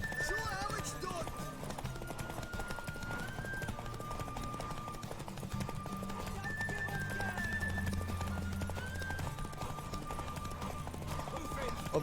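Hooves pound in a fast gallop during a horse race in a video game, a continuous rhythmic clatter under music and background chatter.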